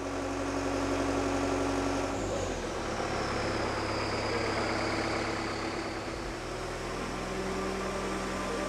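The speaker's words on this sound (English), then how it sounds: "The operator of the aircraft tractor grabs the nose wheel to carefully push it out of the hangar" An aircraft tractor's engine runs as it pushes a plane by the nose wheel out of a hangar, a steady low rumble and hum that holds without breaks.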